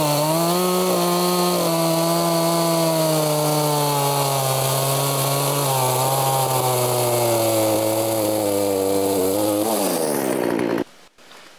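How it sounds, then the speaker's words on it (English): A chainsaw runs steadily through logs being cut for shiitake mushroom growing, a loud sustained engine drone with slight pitch dips as it bites, cutting out abruptly near the end. "So we're going to cut the logs and then we're going to work on the process after that."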